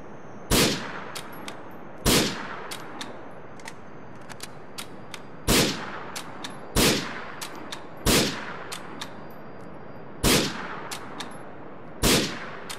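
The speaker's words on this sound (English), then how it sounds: "you'll see these grenades going off" Grenades exploding during a GTA IV mission, heard as about eight heavy booming blasts spaced one to two seconds apart, with smaller sharp pops and cracks between them.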